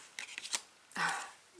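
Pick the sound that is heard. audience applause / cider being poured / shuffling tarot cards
shuffling tarot cards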